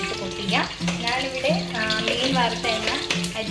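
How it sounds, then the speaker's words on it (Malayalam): Mustard seeds splutter in hot oil in a pan, reused fish-frying oil with sunflower oil, for homemade fish pickle; a steady crackling sizzle runs throughout, with music or voice tones layered over it. "അതിലേക്ക് നമുക്ക് കടുകിട്ടിട്ട് പൊട്ടിക്കാം"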